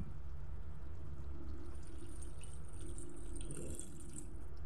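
Water poured into a pan of simmering chicken adobo with its thickened sauce, a steady close splashing and trickling pour running the whole time with no talking.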